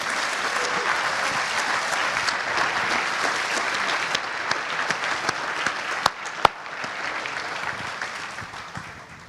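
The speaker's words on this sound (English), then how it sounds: "Give yourselves a big round of applause." Audience applause at a Formula Student awards ceremony, a sustained dense wash of many hands clapping from a large crowd, with a couple of sharper claps standing out before it tapers off.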